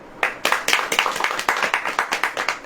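Rhythmic group clapping from a church audience during a Hindi sermon, loud and near, with brisk, even beats continuing throughout.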